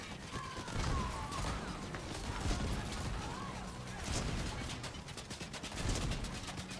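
Video game gunfire crackles nearby in scattered bursts and volleys, fairly quiet and mixed with clattering in-game sounds, with a little talk underneath.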